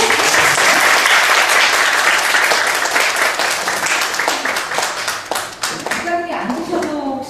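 An audience at an author talk in a bookstore claps to welcome the author, loud and close at first, then thinning into scattered individual claps as voices begin speaking near the end.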